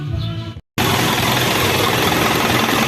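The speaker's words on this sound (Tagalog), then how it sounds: "Yan, ayos na ang andar. Hindi na siya ginig-ginig." An Isuzu 4BE1 diesel engine, after a glove had been sucked into its intake manifold, starts after a short gap and settles into a loud, steady, close idle.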